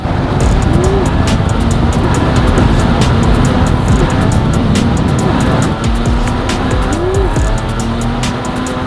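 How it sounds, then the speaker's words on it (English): A loud car engine roars steadily throughout, with sustained rushing road and wind noise, heard from inside the car. "It's got some giddy up. This is a fun car to drive."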